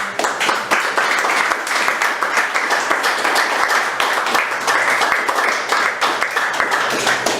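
A church congregation applauds a worship leader for a steady seven seconds, dense and continuous clapping filling the room at close range with no pauses.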